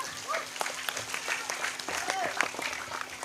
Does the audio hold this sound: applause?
yes